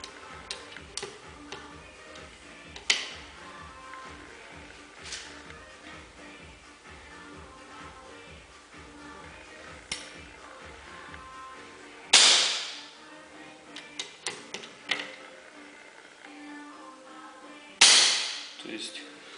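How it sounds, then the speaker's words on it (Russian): A Blizzard S10 bullpup air rifle being cocked and fired during assembly: a run of light mechanical ticks and clicks, then two sharp, loud shot cracks several seconds apart, close and otherwise quiet. "у нас все взводится и происходит выстрел, когда надо"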